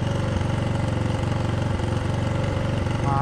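A motorcycle engine runs steadily at a loud, close idle with an even throbbing pulse and no pauses.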